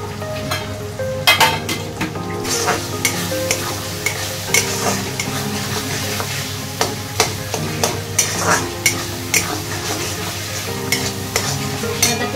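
Ground turmeric, red chilli, coriander and cumin powders sauté in a pan for a cauliflower roast, giving a dense, close sizzle with a regular rhythm of spatula scrapes and taps against the metal throughout.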